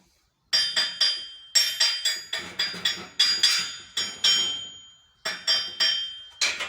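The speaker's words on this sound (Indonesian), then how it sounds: "kita gunakan palu cipeng dulu untuk memukul hasil dari pengelasan tadi" A chipping hammer knocks weld slag off steel ship plate, sharp metallic clinks in quick bursts of three to five strikes separated by short pauses, close and clear with no talk.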